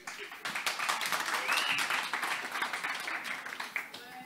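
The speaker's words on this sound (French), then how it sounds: "sous les acclamations du public." Audience applause with some cheering fills the room for several seconds as two guests are welcomed at a French speaking event, a dense, continuous clapping of moderate loudness.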